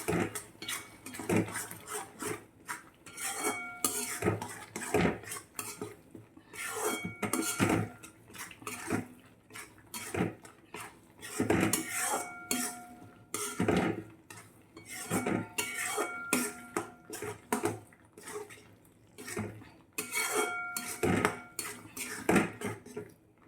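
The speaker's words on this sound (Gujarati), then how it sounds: "હવે આપણે બરાબર મિક્સ કરી દઈશું" A spoon scrapes and clanks repeatedly against a metal pan while stirring a paneer curry with red chilli in an irregular rhythm, close and fairly loud, with no talking.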